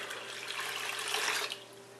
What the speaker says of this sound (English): I'm going to add fresh water to that